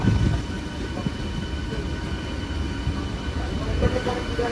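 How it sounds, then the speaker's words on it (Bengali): A late-night local train running from Sealdah toward Ranaghat rumbles steadily from inside a carriage, a continuous low, close roar with a few soft knocks along the track. "এখন কিন্তু শিয়ালদা স্টেশন ছেড়ে আমাদের ট্রেনটা রানাঘাটের দিকে যাচ্ছে"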